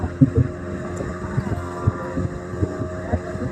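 Motorboat engine droning close by on open water as the boat pulls in to pick up waiting passengers, with steady low rumbling, irregular thumps and some wind noise on the microphone.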